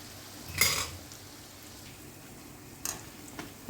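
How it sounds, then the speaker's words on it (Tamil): Luqaimat dough balls deep-fry in hot oil for a Dubai-style sweet, giving a faint, steady sizzle with a brief louder crackle early on and a couple of light clinks later. "இதை நம்ம பொறிச்சு எடுத்துக்கலாம்"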